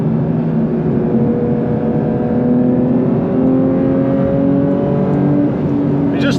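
A 2022 Porsche 911 GT3 Touring (992) engine revs loudly and continuously, its tone climbing and sustaining with a strong, close, high-pitched wail.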